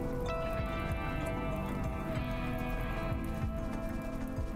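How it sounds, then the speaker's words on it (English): Rain falls steadily in the survival colony-building video game RimWorld, a dense, constant patter and hiss running at the same level throughout the clip, mixed with soft game music and ambient tones. "Oh, and it's raining."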